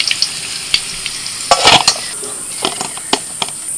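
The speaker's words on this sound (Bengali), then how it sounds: "আলুগুলোকে একটু ভালো করে ভেজে নিয়েছি" Potatoes fry in a pan while being made for hilsa biryani: a steady oil sizzle is broken by sharp scraping stirs and clinks of a spatula against the metal, loud and close.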